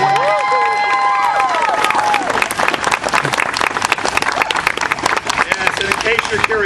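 Audience at a medieval fair comedy show bursts into applause and cheering, with whoops and shouts rising over dense, lively clapping before the voices fade and the clapping carries on.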